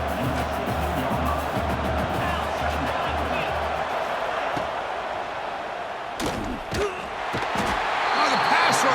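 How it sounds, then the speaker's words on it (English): Roaring stadium crowd in the NCAA 26 college football video game, a dense, loud wash of cheering that holds steady throughout, with brief sharp impacts near the end. "wow, listen to this crowd noise. This stadium is vibrating."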